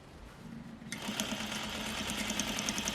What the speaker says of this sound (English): And I'm sewing at 1/16 inch.